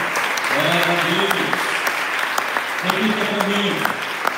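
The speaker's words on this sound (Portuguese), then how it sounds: "Vamos aplaudir o Senhor mais uma vez" Church congregation applauding during a special missions service, a sustained broadband clapping wash heard under a voice that speaks briefly twice.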